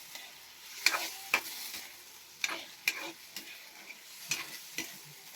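Chicken adobo is stirred in a frying pan, with a spoon scraping and clacking against the pan in scattered sharp strokes over a soft, steady sizzle.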